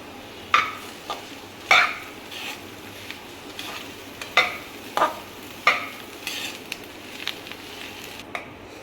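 A spoon stirs capsicum stuffing in a pan, making soft scraping and sizzling strokes roughly every second, close and moderately loud with no talk.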